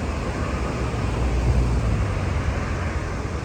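Steady outdoor road traffic noise heard while out on a walk, a continuous low rumble and hiss of passing vehicles that stays fairly loud and even throughout, with no speech.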